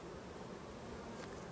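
Honey bees buzz steadily at a swarm trap, a dense continuous drone close to the microphone with no pauses and no talking.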